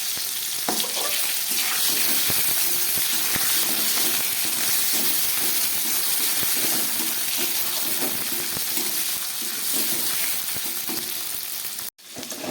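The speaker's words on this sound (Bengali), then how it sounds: "এগুলোকে একটু ভেজে নেব।" Pieces of boiled potato fry in hot oil tempered with dried chilli, bay leaves and cumin, giving a loud, constant sizzle with occasional crackles and stirring scrapes throughout.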